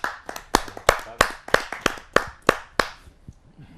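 Audience at a Hindi poetry gathering clapping to welcome an invited poet, about a dozen distinct, fairly loud claps in a loose rhythm that thin out and stop near the end.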